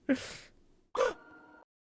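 Two sharp, close gasps from a player character in Meet Your Maker, the second drawn out into a short strained breath, alone against silence.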